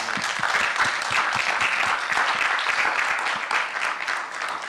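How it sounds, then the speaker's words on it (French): A conference crowd claps steadily in dense, sustained applause that fills the whole stretch without pause. "Je pense qu'on peut carrément les applaudir."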